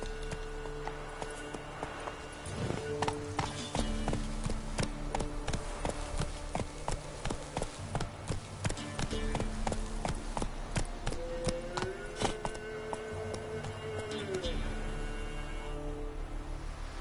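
Hoofbeats of the horse Roach galloping in The Witcher 3, a steady rapid clip-clop running the whole stretch with game music and ambient tones layered underneath.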